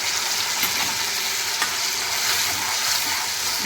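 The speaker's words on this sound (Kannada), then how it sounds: "ಇದಕ್ಕೆ ನಾನು ಪ್ಯೂರಿ ಹಾಕ್ತಾಯಿದ್ದೀನಿ ನೋಡಿ" Tomato puree, ground with its skins, sizzles and spits steadily in a hot pan with ginger garlic paste for Dal Makhani, with a few soft stirring scrapes and no voices.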